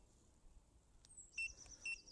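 A CL4 bait boat emits faint, high electronic beeps while its home point is being set, two short, clear tones about half a second apart after a light click, against a quiet outdoor background.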